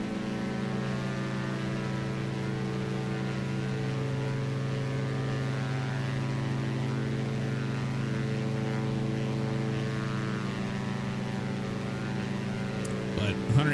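Twin 180-horsepower AE330 propeller aircraft engines in a flight simulator video game, a steady, loud harmonic drone with no break in it across the whole stretch and a brief clatter at the very end.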